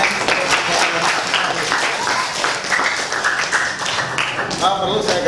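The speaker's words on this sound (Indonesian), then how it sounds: "Ya, kasih tepuk tangan." An audience at a school character-education session applauds after a group presentation. Loud, steady, close clapping runs through the whole stretch, with a few voices surfacing near the end.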